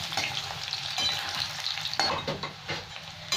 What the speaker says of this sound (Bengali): একটু মাটন কাবাব হচ্ছে, ওই দিয়ে দেবো একসাথে সব কটা ভালো করে ভেজে নেবো।